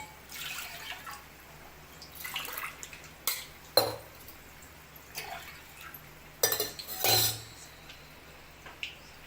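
Water is poured from a glass into a pan to make sugar syrup for balushahi, coming in short splashy bursts mixed with pan clanks and drips against a quiet background.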